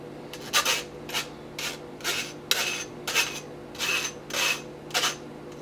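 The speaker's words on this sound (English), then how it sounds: "We're gonna use this strainer, and we're going to just pick the seeds out and then put the pulp back in it." Strawberry pulp is pushed through a strainer to separate the seeds. About eight rhythmic scraping strokes rub against the mesh, close and fairly quiet, with no voices.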